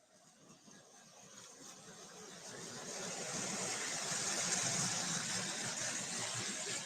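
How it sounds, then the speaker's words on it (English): A three-rail model train locomotive runs alone without cars at a train and toy show, a steady mechanical whirring rumble that grows louder and holds amid faint hall ambience. "Looks like we got one wild locomotive running with no cars in there."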